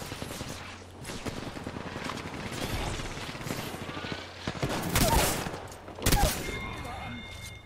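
Gunfire in an Apex Legends firefight, with dense bursts of rapid shots and impacts, louder cracks near the middle and end, and a player's voice talking over parts of it.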